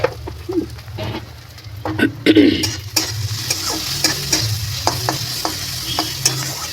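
Onions sizzle in a hot pan while a spoon stirs them, salt having just been added, with scraping taps of the utensil against the pan over a steady close frying hiss.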